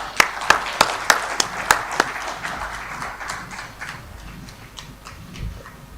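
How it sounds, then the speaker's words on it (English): Scattered, distinct hand claps from an audience at the India Advantage Summit 2023, a handful of sharp claps at first, then thinning and fading into room murmur. "Let's give a big round of applause to Professor Lehmann"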